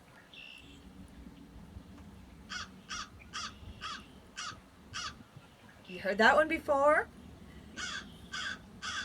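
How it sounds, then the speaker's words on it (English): American crow giving a series of loud, evenly spaced caws, several in a row, with people talking over part of the sequence. "That's a crow, an American crow."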